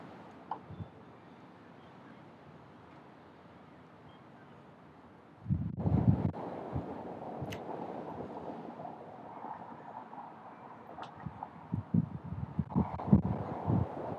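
Wind gusts outdoors buffet the microphone in the spring warmth, starting as a faint rumble and then swelling into stronger rushing and thumping bursts partway through.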